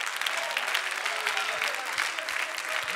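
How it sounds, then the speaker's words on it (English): A church congregation stands and claps, a dense sustained wash of applause filling the room, with voices mixed faintly into the crowd noise. "people are standing up and clapping their hands and saying amen"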